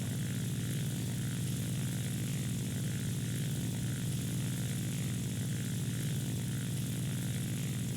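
A propeller-driven fighter plane in War Thunder, a P-63, drones with a steady, loud engine and propeller hum throughout, with no talking.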